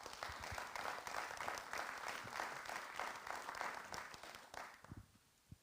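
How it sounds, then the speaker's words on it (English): An audience at a decarbonisation forum gives a steady round of applause, dense clapping that holds for several seconds and then thins out to a few scattered claps at the end. "So how about a round of applause just for that?"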